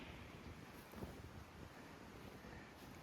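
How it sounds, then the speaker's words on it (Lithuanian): Strong wind gusting through a desert canyon in Oman, a steady roaring rush with brief buffeting bursts against the microphone, no voices heard. "Čia tarpeklį vėjas didelis."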